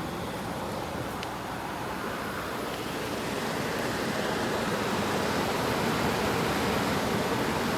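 A 2001 Kenmore 8,000 BTU room air conditioner running, a steady broadband whoosh of fan and airflow that holds constant and grows slightly louder, with no talking.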